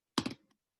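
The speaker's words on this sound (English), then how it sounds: "I guess I'm typing." A quick burst of three or four keystrokes on a computer keyboard, close and fairly quiet, followed by a faint stray tap and then silence, with no voices.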